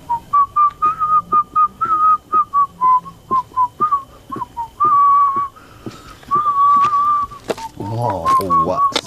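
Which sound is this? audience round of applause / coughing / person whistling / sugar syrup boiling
person whistling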